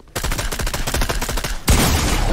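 Gunfire erupts in a Fortnite-style video game fight: a dense, rapid stream of close shots rattles for over a second, then a louder, harsher blast follows.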